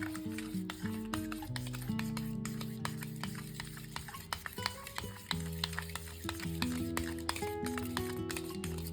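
A mixture for dahi vada is beaten with a pinch of salt, giving steady, close stirring and scraping with rapid small ticks and taps of the utensil against the bowl, continuing unbroken with no one speaking.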